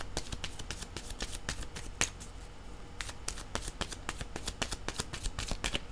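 Playing cards are shuffled rapidly and repeatedly to draw a card during a tarot-style reading, a close, crisp flurry of riffling snaps with a brief pause midway.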